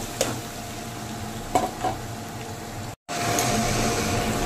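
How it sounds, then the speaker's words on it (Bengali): Chopped onions fry in a pan with whole spices, a soft continuous sizzle broken by a few scraping stirs and a brief cut near the end, close and quiet with no voices. "তো পেঁয়াজটা আগে ফ্রাই করে নিই।"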